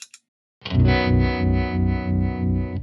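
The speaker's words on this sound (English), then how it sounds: "Here you can hear trem from a pedal." After a brief click, an electric guitar chord pulses with an even, regular tremolo from a tremolo pedal, its volume rising and falling in a smooth, steady rhythm.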